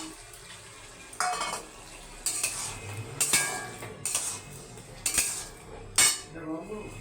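Prawns cooking in a pan for a ripe cucumber curry, with repeated scraping and clinking of a spatula against the metal over a low sizzle, in several short, fairly close bursts.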